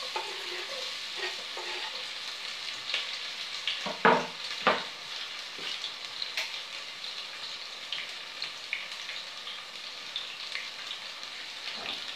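Red onion and garlic fry in a pan with a soft, steady sizzle and crackle, and a few louder stirring clatters partway through, no voices.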